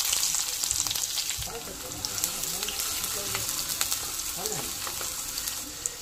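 Chopped onions sizzle and crackle steadily in hot oil for a tempering, close and continuous, with faint voice-like sounds now and then beneath the frying.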